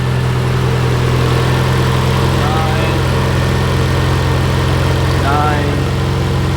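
A car engine fitted with individual throttle bodies idles smoothly and steadily at a constant low rumble throughout. Faint background sounds come and go over it.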